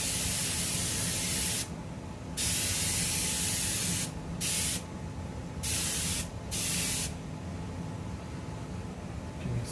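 An airbrush hisses steadily while spraying paint speckles, the continuous close spray swelling in several short bursts of stronger flow over a constant background hiss.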